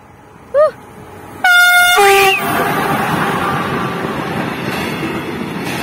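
A passing train sounds its horn loud and close in one sustained harmonic blast that dips into a lower tone, followed by the continuous rumble of the train rolling by, with a brief high chirp just before.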